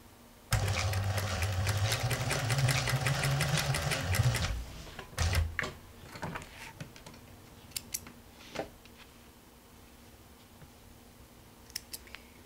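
A sewing machine stitching blue patchwork fabric in a fast continuous run for several seconds, then stopping, followed by scattered clicks and handling sounds of fabric and tools.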